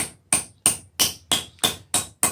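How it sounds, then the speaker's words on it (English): A wooden wedge is driven into the handle of a forging hammer with eight sharp, evenly spaced strikes, each a crisp close hit with a short ringing decay and no voices. "You just drive that wedge down."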